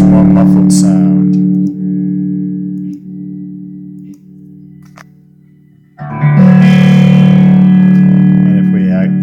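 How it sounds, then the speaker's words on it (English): Electric guitar with its tone control turned fully down, run through a software guitar rig in absolute mode, giving a dark, muffled sustained chord that fades, then a louder second strum rings out alone. "Turn the tone all the way down on everyone using absolute mode. And we should get much more muffled sound."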